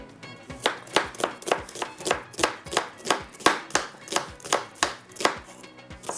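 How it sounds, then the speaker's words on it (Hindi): A knife slicing onions on a board in a steady, even rhythm of about twenty sharp close chops, with no talking. "प्याज ज़रूरी नहीं आप चॉप इसको करें, वैसे स्लाइस में कटिंग कर लीजिएगा"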